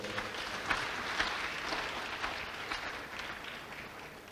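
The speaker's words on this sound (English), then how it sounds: "I would think that the Honorable Minister of Health deserves a louder round of applause." An audience at a pledge-taking ceremony claps steadily in a sustained round of applause, dense and even, tapering slightly at the end.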